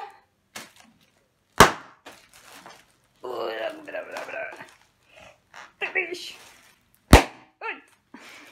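Bubble wrap is popped one bubble at a time, giving a few loud, crisp snaps spaced several seconds apart. Voices talk between the pops.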